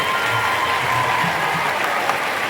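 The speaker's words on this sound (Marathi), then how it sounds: "टाळ्या वाजत राहायला पाहिजे, कडकडाट होत राहायला पाहिजे." Steady applause from an audience at a Marathi public event welcoming a guest speaker, a dense continuous wash of clapping that holds evenly throughout.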